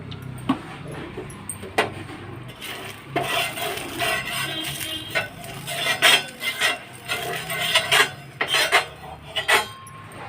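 Irregular metallic scrapes and clinks of a utensil spreading oil across a plain iron dosa pan, close and moderately loud, with bursts of scraping separated by short pauses.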